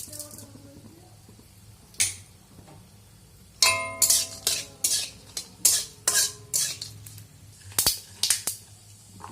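Dried red chillies and mustard seeds tempering in hot oil in a wok, with a soft sizzle under a series of sharp metallic clinks and scrapes of a spatula against the pan, fairly close.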